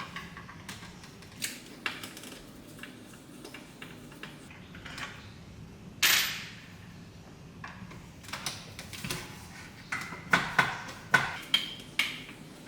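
Small metal screws being worked loose with a handheld screwdriver while disassembling a Jane 8 extension kit, heard as scattered close ticks, scrapes and clicks with a sharper clatter midway and a busier cluster of clicks near the end.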